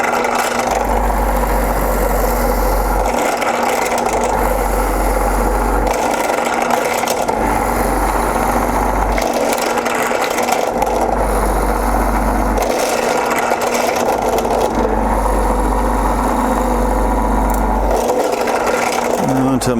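A drill press runs with a steady machine hum, its motor droning under a periodic low thumping as the bit bores the first hole in a part clamped in a crisscross vise, close and continuous for the whole stretch.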